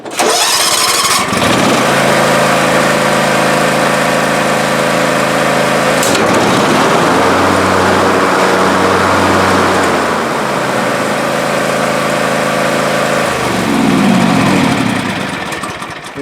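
A John Deere X300 riding lawn mower cranks briefly, fires up and settles into a loud, steady engine run nearby, with small shifts in pitch as it keeps running.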